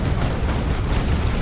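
Heavy booming blasts from a Leman Russ Executioner tank's plasma cannon in Dawn of War 2, a loud, dense, rumbling roar of explosive fire filling a short burst with no voices.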